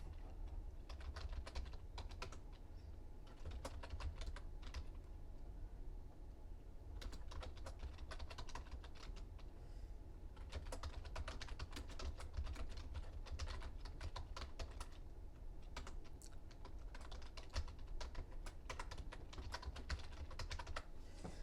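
Quiet, close typing on a computer keyboard comes in irregular bursts of soft clicking keystrokes separated by short pauses.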